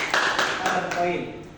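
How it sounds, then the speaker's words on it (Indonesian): Students applaud in a classroom with a few sharp, evenly spaced claps that soften and die out, while a voice talks over them. "Tepuk tangan dulu dong"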